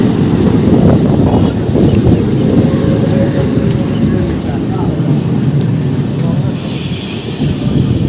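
A Kanchanjunga Express train with new LHB coaches runs on rails toward Dakshineswar in the morning, giving a loud, steady rumbling roar close by with thin wheel squeals above it throughout, and a voice is faintly audible.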